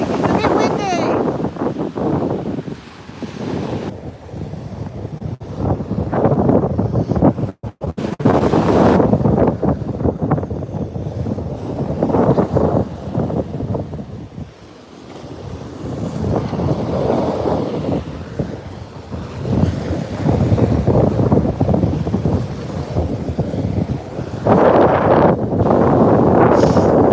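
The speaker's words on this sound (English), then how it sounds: "It's a bit windy." Strong gusts of wind buffet the microphone in long, roaring surges, rising and falling over the whole stretch, with occasional faint background sound.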